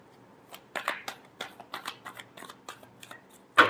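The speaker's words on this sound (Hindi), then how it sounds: "Last shuffle." Tarot cards shuffled close by in a quiet room during a love reading, a run of soft riffling flicks and taps in an uneven rhythm ending with a sharper snap.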